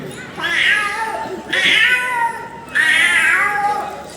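Three drawn-out meows made by a human voice mimicking a cat, each rising then falling, close and fairly loud with short gaps between.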